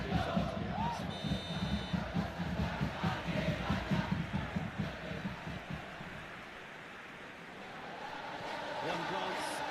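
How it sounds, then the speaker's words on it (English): Stadium crowd in the football video game eFootball PES 2021, a dense, steady roar with chanting that fills the scene under a commentator's voice, then thins slightly toward the end. "We have a hugely expectant crowd here."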